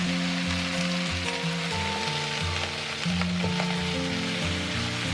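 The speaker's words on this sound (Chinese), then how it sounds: "这样干煎的话，就味道会比较香，油不用加特别多哈，这样子煎出来比较漂亮。" Lemon chicken dry-fries in a flat pan with very little oil, a continuous soft crackling sizzle like light rain, heard close and steady over a low background hum.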